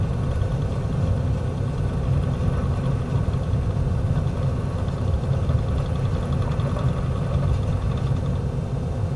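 Beechcraft Bonanza engine in a flight simulator during the takeoff roll, a steady loud piston drone with a dense low rumble that holds constant throughout, with no talk over it.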